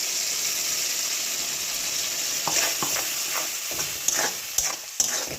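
Spice paste fries in a pan with tomatoes for a paneer dish, a steady sizzle broken by scraping stirs and clicks from the spoon that grow more frequent toward the end.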